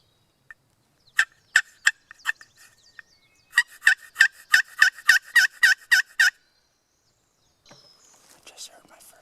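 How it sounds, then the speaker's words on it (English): A wild turkey gobbles near a creek in New Brunswick turkey-hunting country. It calls in a rapid series of sharp, rattling gobble bursts at moderate distance against quiet surroundings, then a fainter trailing call follows. "I just heard my first gobble"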